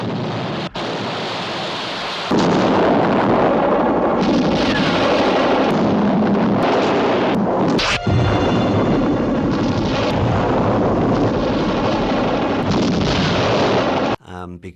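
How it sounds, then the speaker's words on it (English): A special-effects explosion in a large studio water tank bursts into a loud, sustained roar of churning water and rumble, holding steady for many seconds with a sharp crack midway before cutting off. "whenever anything had to be blown up in the huge water tanks that we had in the studios"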